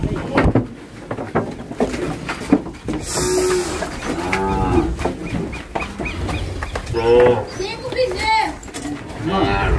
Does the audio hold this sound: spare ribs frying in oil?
no